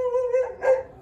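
Dogs nearby in a garage let out a short whining yelp followed by a quick bark, clear and alone.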